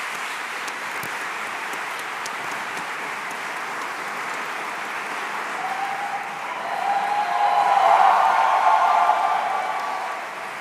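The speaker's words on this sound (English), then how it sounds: "How about one more round of applause for our speaker?" An audience applauds at an MBA graduation ceremony, a steady wash of clapping that swells louder toward the end and then begins to ease.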